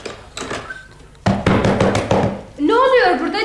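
Knocking on a locked door, a short series of firm, fairly close thuds heard amid people talking in Turkish.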